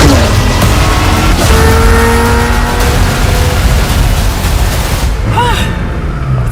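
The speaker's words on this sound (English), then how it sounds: "The reason this car is one of the fastest on the planet is because of its twin turbocharged V8 engine" A twin-turbocharged V8 supercar with a carbon fiber core, lighter than a Lamborghini, roars loudly and steadily at speed from inside the cabin, its rising engine harmonics easing off near the end.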